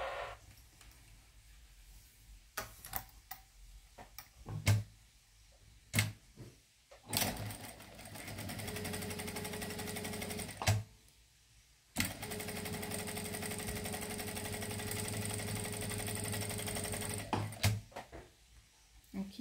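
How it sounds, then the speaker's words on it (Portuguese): A sewing machine stitches a hand towel in two steady whirring runs, with short mechanical clicks and knocks in between as the fabric is adjusted. "Agora eu vou vir na máquina e vou passar uma costurinha aqui."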